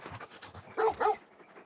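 A dog in the Final Fantasy 16 video game pants and whimpers, then lets out two short muffled barks, close and moderately loud with no voices.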